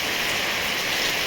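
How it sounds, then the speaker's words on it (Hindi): Steady rain falls in a dense, even hiss, close and constant, with no voices over it. "बारिश आ गई"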